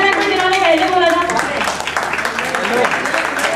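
A debate audience claps to vote, a dense burst of applause that stays fairly loud for a few seconds before thinning slightly, with a voice heard over it.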